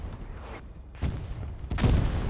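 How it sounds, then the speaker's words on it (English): A satchel charge detonates in the World War II shooter Hell Let Loose during a tournament battle on Carentan, with booming blasts and crackling gunfire in loud bursts over continuous battlefield rumble. "Plonk and satchel explosion against Zota"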